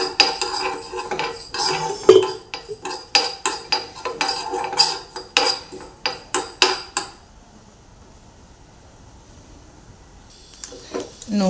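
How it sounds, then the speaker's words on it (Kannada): Fenugreek and cumin seeds dry roasting in a pan give quick crackling pops and metallic clinks of a utensil against the pan, close and busy for about seven seconds, then near silence before a few more clatters. "ನೋಡ್ಬೋದು ಫ್ರೆಂಡ್ಸ್, ಈ ಥರ ಚಟಪಟ ಅಂದ ತಕ್ಷಣ"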